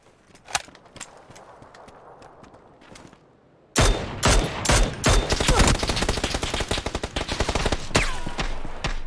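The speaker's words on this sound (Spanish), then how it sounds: "Estoy disparando de la derecha." Gunfire in the battle royale game PUBG: a few isolated distant shots over quiet ambience, then sudden loud rapid bursts of automatic fire, dense cracking volleys that continue to the end.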